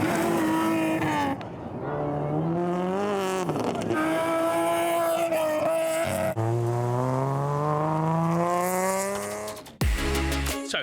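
Rally cars race along a stage at the Rally of Whangarei in New Zealand, engines revving hard and rising in pitch through gear changes, loud and continuous with brief shifts and a sharp change near the end.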